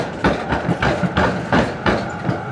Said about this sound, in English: you can see the tram going past.